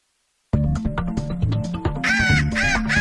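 A mechanized game call imitates bird calls with a rapid run of loud, close, raspy honks and caws, and brighter shrill squawks toward the end.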